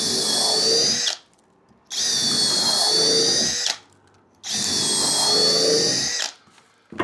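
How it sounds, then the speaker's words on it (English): A cheap brushless drill driver bores into a piece of wood in three loud, steady whirring bursts, each about two seconds long and separated by brief silences. "let's drill into this piece of wood"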